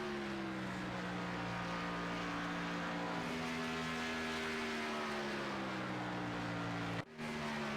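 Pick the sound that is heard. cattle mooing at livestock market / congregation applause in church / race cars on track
race cars on track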